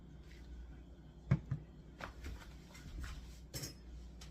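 A utensil stirs grated Parmesan and Romano cheese into a cottage pie filling, giving soft, irregular scrapes and clinks with a couple of sharper taps against the dish.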